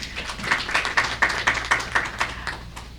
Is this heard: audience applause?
yes